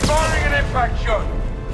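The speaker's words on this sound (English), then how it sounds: "Firing an impact shot." An impact shot fired in a video game gives a loud, close, booming blast with a rumbling low-end tail. It fills the moment, and a voice rises briefly over it.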